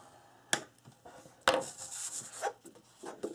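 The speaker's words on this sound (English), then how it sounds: "we're just going to score at 1/2 inch and 3/4 of an inch" A scoring tool drags across paper for a baby album, giving two sharp scraping strokes followed by a few softer rubbing passes, close and quiet with no talk.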